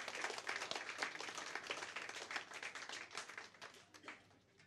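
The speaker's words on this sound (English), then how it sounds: "let's give the Lord a clap offering for our sister" Church congregation clapping together as an offering of applause, a dense steady patter of many hands that fades slightly toward the end.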